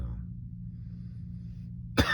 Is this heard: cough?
yes